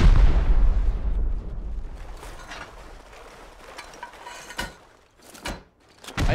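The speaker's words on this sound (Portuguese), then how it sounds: "Quem gosta de ouvir muitas explosões no ouvido aí." Explosions during a raid in the video game Rust: a loud opening blast that rumbles away, followed by a few sharp bursts near the end, with no talking.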